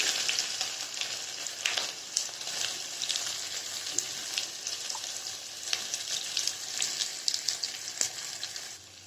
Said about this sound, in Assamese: তেল গৰম হ'লত মই এই চকলিয়াই লোৱা পিঁয়াজখিনি দি দিলোঁ।